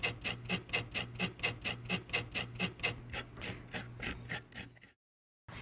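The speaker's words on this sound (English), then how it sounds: "Now, I'm going to grate it on a grater," Fresh ginger root is rubbed against a grater in quick, regular scraping strokes, about four per second, close and fairly quiet, before stopping abruptly.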